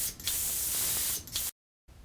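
A Critter spray gun sprays finish with compressed air: a loud, steady, close hiss lasting over a second with a brief sputter at the start and end, then silence before faint hiss resumes.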